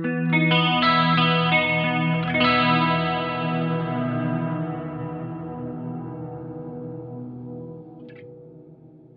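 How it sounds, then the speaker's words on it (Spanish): An Eventide H90 pedal runs a crystals shimmer effect into a delay, giving a lush, pitch-shifted guitar chord that swells with a second strum, then decays slowly in a long, smooth echoing tail. "Y pongo primero crystals y después delay."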